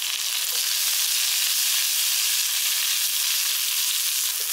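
Tempering of mustard seeds, dal, green chilli, curry leaves, spring onion and coconut sizzling and frying in hot oil, a steady, dense crackle that stays loud throughout with no voices.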